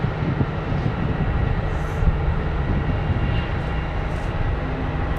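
A United A321neo airliner from Chicago O'Hare at Phoenix airport gives off a steady, loud jet engine roar that holds constant throughout, with no voices.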